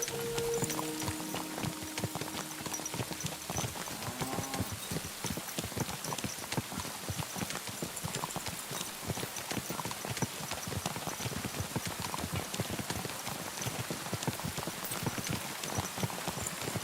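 Horse hooves clip-clop at a steady trotting rhythm while riding in Kingdom Come: Deliverance II, close and continuous through the whole stretch with no talk.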